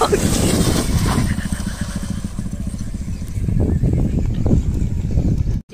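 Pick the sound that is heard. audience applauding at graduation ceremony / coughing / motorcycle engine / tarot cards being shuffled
motorcycle engine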